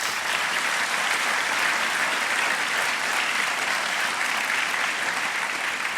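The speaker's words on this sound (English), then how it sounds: "Please give them a round of applause." An audience gives a sustained round of applause at a public address in New Orleans, dense even clapping that holds steady for several seconds with no talk over it.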